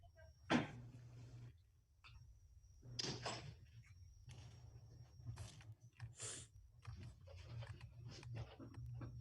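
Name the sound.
door being closed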